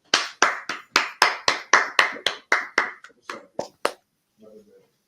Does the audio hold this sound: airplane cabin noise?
no